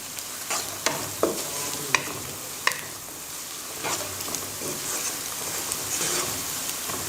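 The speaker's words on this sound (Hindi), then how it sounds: "भून लेते हैं मसालों को भी।" Spices for a chana and mash dal fry and sizzle in a pan, a steady crackling hiss broken by several sharp scraping stirs of a spoon, close and fairly loud with no voices.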